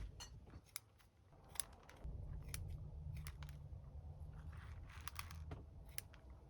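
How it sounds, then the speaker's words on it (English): Scissors snip long roots off an Eastern Redbud bonsai being set up as a root-over-rock, giving a series of small, faint, crisp clicks scattered over a low background hum. "I want to snip some of these long roots that I don't need."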